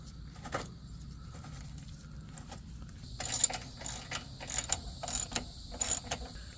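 A ratchet runs a bolt down during replacement of a 2.5L engine in a 2014-2017 Mazda 6, giving several short bursts of quick clicking close by after a quieter start, with no talk.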